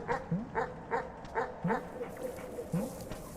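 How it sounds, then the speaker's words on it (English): A dog in the video game Animal Well gives a run of sharp, evenly spaced barks close by, then a few more spread-out yips, alone with no talk. "There's another dog here."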